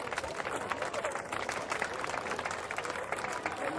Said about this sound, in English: the crowd's clapping now for the man currently in overall 3rd place